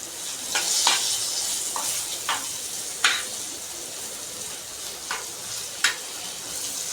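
Drumstick pods fry in a pan with a constant sizzle while a utensil scrapes and turns them in several short bursts.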